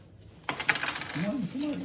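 Dice clatter and tumble across a hard surface during a board game, a bright rattling burst that fades under excited voices nearby.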